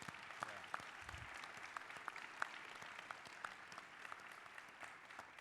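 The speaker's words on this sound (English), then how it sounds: "I want to give them a big round of applause." An audience claps for pitch participants at an entrepreneurship event, with sustained, fairly distant applause carrying irregular sharp claps throughout.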